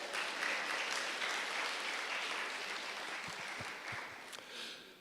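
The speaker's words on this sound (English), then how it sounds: "but I think he needs a warm applause." Sustained audience applause at a health-evaluation conference session in Nigeria honoring the moderator, a steady dense patter of many hands that swells and then gradually tapers over about five seconds, with no voices over it.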